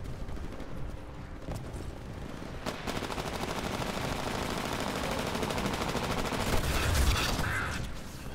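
Rapid automatic gunfire in the Titanfall video game, a dense sustained rattle of shots with a few sharper bursts, loud and continuous with no talk.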